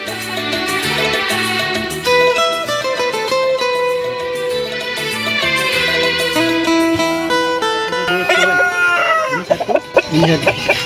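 Layer-cross chickens cluck and squawk loudly and close together in a busy, overlapping chorus in a coop, with a rooster crowing among them.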